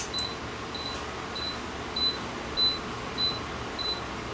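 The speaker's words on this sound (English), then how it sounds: "Something beeping at me here, and I don't know what's beeping." A circuit board gives off a short, high electronic beep about every 0.6 seconds, repeating steadily over a low background hum with no talking.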